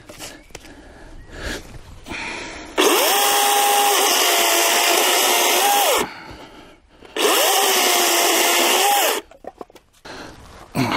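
A DeWALT FLEXVOLT cordless chainsaw cuts wood in two loud, sustained bursts of about three seconds each, the motor whining steadily at high pitch with a brief pause between cuts.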